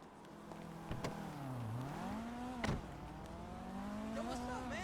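Car engine in GTA 5 gameplay drives steadily, its pitch rising and falling with a brief dip, a couple of sharp transient bumps along the way, and voices and game ambience mixed in beneath.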